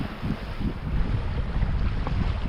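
A sailboat motors toward Corfu under its Volvo engine, a steady low drone mixed with wind buffeting the microphone and rushing water along the hull, with no talk.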